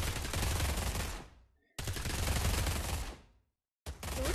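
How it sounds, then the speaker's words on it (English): MP5 submachine gun fire in the VR shooter Pavlov, two long loud full-auto bursts separated by short silences, then a third burst starting at the end. "See, I have my MP5. I'm trying to shoot this guy."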